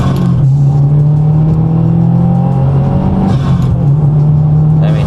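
Tuned Subaru WRX with an aftermarket J-pipe and intake, engine droning steadily under load and rising in pitch as it accelerates, heard loud and close from inside the car, with a small pop and shift near the end.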